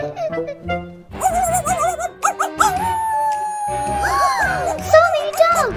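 Several dogs whimper, yip and howl in drawn-out wavering cries during a children's toy-house play scene, close and fairly loud, with children's voices mixed in.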